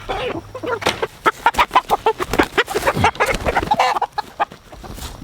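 Free-range chickens clucking close by in a rapid, busy run of repeated clucks with no talking.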